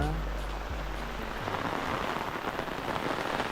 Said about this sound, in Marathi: बघा पाऊस येलो